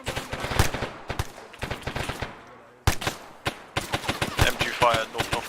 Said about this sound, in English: MG fire, north-northeast